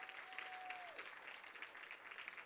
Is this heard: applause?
yes